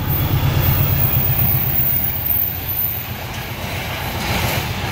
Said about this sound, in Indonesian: Kereta Argo Cirebon memasuki lorong panjang.